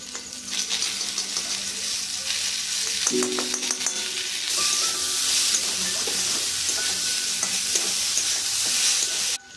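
Papaya curry with green chili and a little ghee being sautéed in a pan, a loud continuous sizzle with brisk stirring and scraping up close, a few metallic clinks partway through, no voices.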